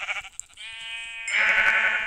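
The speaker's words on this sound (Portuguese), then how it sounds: "Vem, Pedro, tem muita ovelha aqui." Sheep in a video game give a few drawn-out, nasal bleats one after another, near and clear with no talk.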